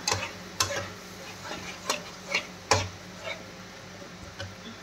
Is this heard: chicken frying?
yes